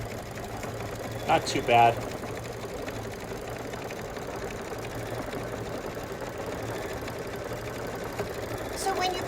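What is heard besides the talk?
embroidery sewing machine sewing out a quilting design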